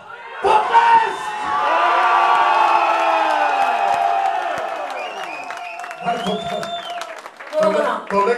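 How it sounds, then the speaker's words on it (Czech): Crowd at a CD launch party for a singer, with her godmother, bursts into cheering, whoops and applause, loud and sustained, then tapering into scattered shouts and voices. "Potlesk!"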